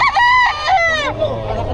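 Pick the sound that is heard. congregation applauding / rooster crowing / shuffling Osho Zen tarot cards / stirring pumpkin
rooster crowing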